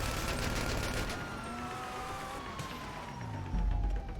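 A police car siren wails through a chase in GTA, its sweeping tone riding over engine rumble and street noise, with a low thud near the end and no talking.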